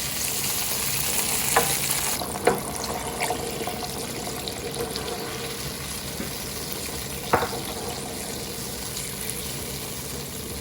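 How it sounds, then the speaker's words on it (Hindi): Water and stock poured into a pot of cooking kabuli pulao rice give a steady, loud sizzle and bubbling, with a few brief clinks and knocks from the pot. "तो मैं इसमें थोड़ा सा पानी और यखनी और डालूँगी"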